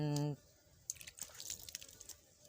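Squid being rinsed in water, with a tonal voice at the start followed by irregular splashing, dripping and squishy handling sounds up close.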